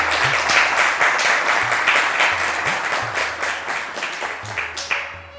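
A studio audience at an Eid special TV show applauds steadily and loudly throughout, dense clapping with a low rhythmic thump beneath, tapering slightly at the end.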